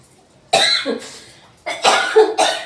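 Three loud, close coughs, spaced apart with short pauses between them, and no talking.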